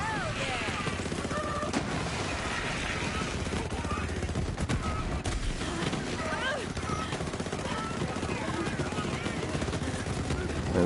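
Rapid, sustained machine-gun fire from Moze's Iron Bear mech braced in bipod mode in Borderlands 3, continuous bursts with explosions and game effects layered in the mix.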